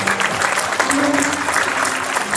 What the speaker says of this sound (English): give the Lord another hand clap of praise.